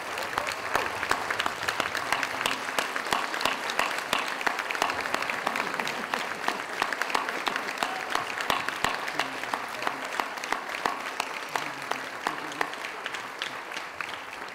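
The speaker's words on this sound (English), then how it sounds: "join me in one final round of applause for the remarkable 2017 graduates" Sustained, dense applause from a large graduation ceremony audience, honoring the 2017 graduates of the Bush School of Government and Public Service; the clapping stays loud and steady throughout with no talking.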